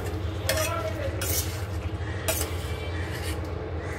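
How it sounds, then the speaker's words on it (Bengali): Chicken meat being sautéed in a pan, with a low steady sizzle under a few sharp spoon scrapes and clinks against the metal, heard close. "তো দেখতেই পাচ্ছ মাংসটা কষছে বেশ সুন্দর করে।"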